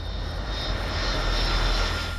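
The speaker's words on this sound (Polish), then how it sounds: "Oto samolot linii Condor z Monachium, podchodzący do lądowania w Funchal." A Condor Airbus A320 from Munich on approach to land at Funchal, its engines giving a steady, loud broadband roar with a high whine, held without a break.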